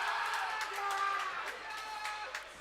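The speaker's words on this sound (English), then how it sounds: "Rowdy crowd this evening here in Fife Ice Arena" Noisy crowd at an ice hockey game in Fife Ice Arena, St Andrews Typhoons against Sheffield Bears, a steady wash of chatter and shouts with scattered whoops, clapping and arena tones.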